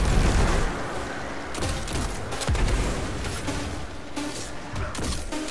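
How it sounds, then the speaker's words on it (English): A grenade goes off in Destiny 2 amid dense, loud combat noise, with booming bursts and crackling gunfire layered over a constant roar and no voices. "so we're just gonna get a grenade kill here."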